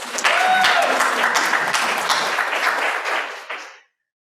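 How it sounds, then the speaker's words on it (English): Audience clapping after a talk at a cloud-native geospatial event, a brisk room-sized burst of applause with distinct claps that thins and fades out after a few seconds. "You can clap."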